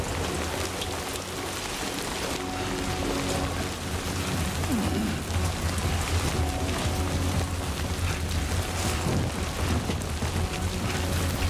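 Steady video game rainfall in Death Stranding 2 patters continuously at a moderate level, with a low rumble underneath and no voices.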